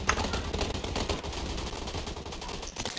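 Rapid bursts of gunfire in the PUBG Mobile gun game mode, a dense continuous rattle of shots with some louder cracks, loud and close throughout with no talking.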